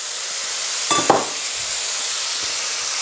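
Grated onions going into a hot pan for a simple chicken curry, a steady broad sizzle running throughout with a brief louder burst and stir near the start, close and continuous without talk.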